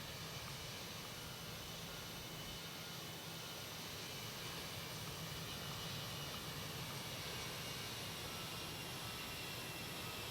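A Boeing 767-300 freighter airliner taking off in the X-Plane 11 flight simulator, a steady loud engine roar holding evenly from start to finish with no talk.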